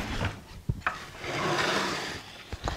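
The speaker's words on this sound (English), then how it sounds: "Cut everything straight in half." Wooden pieces for a birdhouse-style wine gift box being sawn straight in half, heard as close, coarse rasping strokes with a few sharp knocks of the blade and wood in between.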